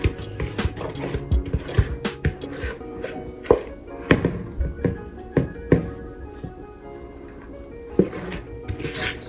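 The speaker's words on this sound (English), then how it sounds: "I'm just kind of scraping the seasoning from around the bowl, which is mostly garlic" A utensil scrapes garlic-heavy seasoning from around a bowl, giving irregular scratchy knocks and taps spread across the clip.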